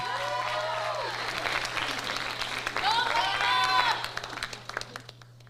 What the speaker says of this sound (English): So give these guys one more round of applause,